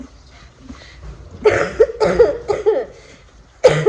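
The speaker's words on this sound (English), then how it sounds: "Excuse the cough." A fit of several harsh coughs in quick succession from a lingering three-week cough, close by, followed by one more cough after a short pause.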